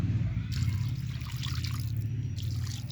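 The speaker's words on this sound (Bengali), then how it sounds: "এবার এইখানে যতটা জল লাগবে সেই মাপ অনুযায়ী জলটা দিয়ে দিব" Water poured into a pan of hand-mashed boiled chickpeas and spice mix for chola bhuna, a steady close trickle and splash with a low continuous rumble underneath.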